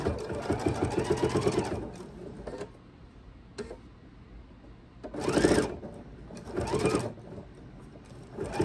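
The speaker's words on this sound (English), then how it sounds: "we're going to sew right up to the edge of that right fold and then turn our piece" A sewing machine stitches quilt binding in separate bursts: a long run at the start, then two short spurts later with quiet handling between them. Close and clear, with no speech.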